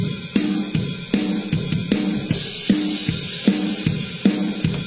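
A full song mix with a drum track, played with and without added real drum hits; steady punchy beats recur in a regular rhythm under dense, loud instrumentation throughout.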